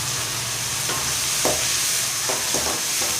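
Tomatoes for a dried fish curry sauté in a pan, with a continuous sizzle and a few soft scraping stirs breaking through it.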